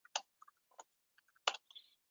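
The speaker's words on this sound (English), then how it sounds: "Hopefully my typing is not too loud." Soft, sparse clicks from a computer keyboard: a handful of irregular keystrokes tapped one at a time in a quiet room, close to the microphone.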